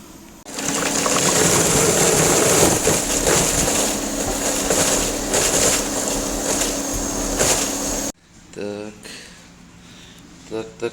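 A diesel particulate filter cleaning machine connected to a Passat B8 runs with a loud steady hiss and hum for about eight seconds, then cuts off, leaving faint gurgling and a voice.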